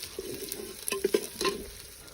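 Green chillies slit lengthwise and curry leaves frying in a pan for a Kerala-style rabbit roast, with a soft steady sizzle and a few sharper clatters of stirring near the middle, close and without talk.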